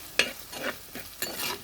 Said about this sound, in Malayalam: നന്നായിട്ട് ഇളക്കണം.